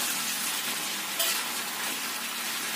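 Shrimp paste and spices are stirred in a hot cooking pan, giving a steady close sizzle and frying hiss with a faint scrape midway and no talking.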